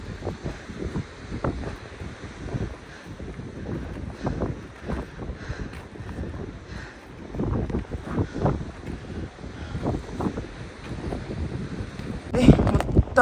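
Strong wind sweeps across the rocky Everest Base Camp trail, buffeting the microphone with a continuous, gusty low roar and rushing hiss for the whole stretch, loud and close with no voices.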